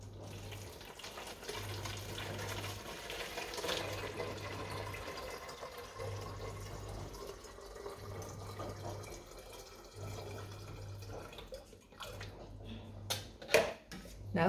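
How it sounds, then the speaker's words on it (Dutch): Water is poured steadily into a measuring cup, filling it for a capacity and volume lesson, with a continuous running wash of liquid that ends in a few clinks and splashes near the close. "So ek gaan nou eers 1 maatbeker se water ingooi."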